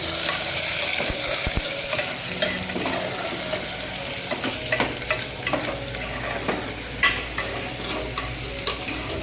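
Avarekai field beans frying in a little oil in a pan, a steady close sizzle punctuated by repeated clinks and scrapes of a stirring spoon against the pan.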